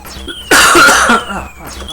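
A person coughs in a burst of roughly three-quarters of a second, loud and close, over the chiptune music and effects of an MSX homebrew game.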